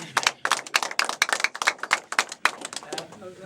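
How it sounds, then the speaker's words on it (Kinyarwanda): A group applauds during a Seventh-day Adventist church music program on BTN television, with loud, close bursts of clapping that fall into an uneven rhythm and fade out at the end. "amashyi menshi cyane."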